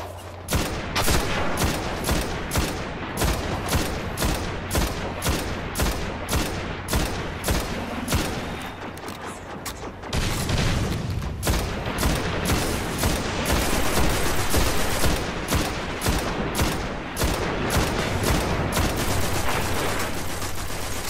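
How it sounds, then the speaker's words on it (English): Continuous gunfire in the Destiny video game during a fight, dense rapid bursts of shots in a steady rhythm, loud and close, with a brief lull partway through and no talk. "Just gotta get a few shots in on that bat leg."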